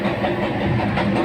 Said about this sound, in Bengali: বর্ধমান জংশন রেলওয়ে স্টেশন থেকে রামপুরহাট মেমো ছুটে চলেছে বোলপুর শান্তিনিকেতনের উদ্দেশ্যে।